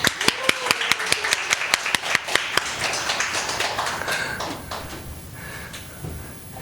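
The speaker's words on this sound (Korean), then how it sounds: "우리 다시 한번 박수 한번" Church service applause: a rapid, evenly spaced series of sharp claps up close, loosening into a softer, fading patter of hands.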